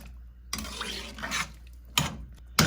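Onions are stirred into rice in a metal pot, with a few sharp scraping and clinking strokes of a spoon against the pot over a soft sizzle, close and without speech.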